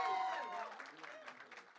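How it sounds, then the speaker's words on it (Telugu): Audience clapping at a Telugu film teaser launch event as the director is called on stage, a scattered round of applause mixed with a voice over the loudspeaker, fading toward the end. "గట్టిగా చప్పట్లతో రిక్వెస్ట్ చేద్దాం."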